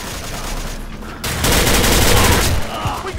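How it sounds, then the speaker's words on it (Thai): An M4 rifle fires in rapid, continuous bursts in the online shooter game Battery Online, the loud rattling gunfire swelling after a quieter opening and holding dense and close. "ผมรู้สึกว่าปืน M4 จะรัวเกินความจริงนะฮะ"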